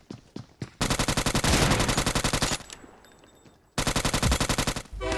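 Rapid automatic gunfire from a shooter video game set on a Mumbai map, loud and close, in two long bursts of evenly spaced shots separated by a brief lull, with no talking.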